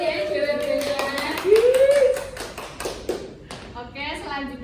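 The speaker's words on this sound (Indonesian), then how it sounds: "Tepuk tangan untuk Salma." Students in a primary classroom clap for a classmate who answered correctly, a brief ragged burst of hands close by, with a teacher's voice speaking over and around it.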